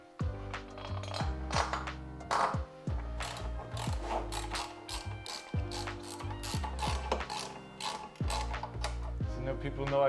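A ratchet wrench works on the hubless rear wheel of a Verge TS Pro e-bike, giving close, loud, rhythmic clicking in repeated bursts of strokes with short pauses between them.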